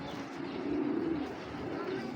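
Pigeons, including racing pigeons, coo low and steady close by, a continuous throaty murmur with soft chirps mixed in.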